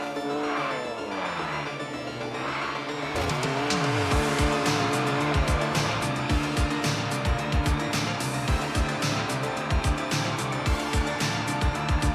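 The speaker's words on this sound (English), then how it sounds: "talk about the drifting in car parking multiplayer 2" Car drifting in the mobile game Car Parking Multiplayer 2, with engine revs rising and falling and repeated bursts of tire squeal and skidding, loud and continuous throughout.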